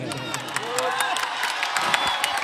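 A large crowd cheers and shouts at an election rally in Bihar, a dense continuous roar of many voices with sharp whoops and scattered claps poking through.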